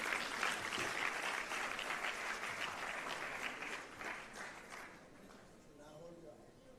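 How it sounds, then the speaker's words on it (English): Guests at a formal farewell dinner for the Chief Justice give sustained, lively applause that gradually fades away, followed by a voice beginning to speak. "Let's give him a round of applause."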